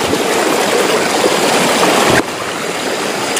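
A fast-flowing river rushes loudly and continuously close by, a dense broadband roar of strong current that drops slightly in level partway through.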